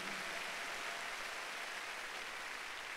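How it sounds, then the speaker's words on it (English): A church congregation at a miracle service claps for Jesus, a steady, dense wash of applause that sounds faint and distant, with no voices over it. "If you are clapping for Jesus, let's be louder."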